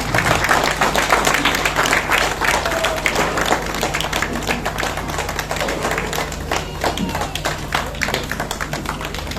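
Crowd applause at a trophy presentation during an Independence Day event, brisk sustained clapping from many hands, fairly close and loud, continuing steadily with a faint voice or two underneath.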